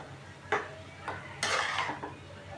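Chopped garlic, ginger, cumin and green chilli get stirred in a pan over high heat, with a few distinct scraping strokes of the spoon against metal over a soft sizzle, close and fairly quiet.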